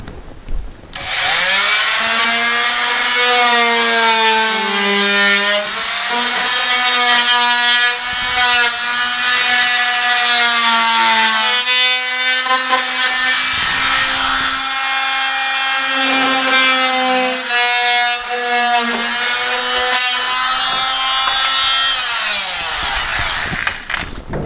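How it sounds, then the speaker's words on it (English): Oscillating multi-tool cutting through drywall close to a pipe, a loud, steady high-pitched buzzing grind that runs almost continuously for over twenty seconds with brief dips in pitch as the blade works. "So I'm going to use the oscillating tool."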